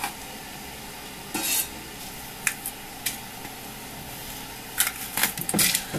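Onions and garlic fry in a pan alongside nearly cooked pork, a soft steady sizzle broken by bursts of stirring and utensil scrapes against the pan, close and quiet.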